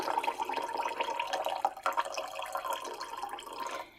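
Sparkling water is poured into a mixed drink of one part alcohol to two parts soda, giving a soft continuous trickle of fizzing, dripping liquid with no talk.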